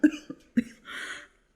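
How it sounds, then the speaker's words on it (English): A man's harsh cough from a damp niter-filled wine cellar, heard as a close burst of several hacking coughs followed by a wheezing, rasping breath, with no other sound. "How long have you had that cough?"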